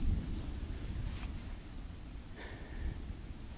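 Distant thunder rumbles low and faint during a storm on Dartmoor, a soft continuous roll beneath wind noise at an open camp.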